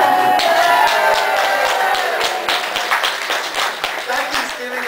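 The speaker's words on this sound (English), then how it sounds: "Becky's giving a standing ovation. She's jumping up and down and cheering." An audience claps during a Bible lesson, with sharp irregular claps close by and some crowd noise and voices mixed in, tapering slightly toward the end.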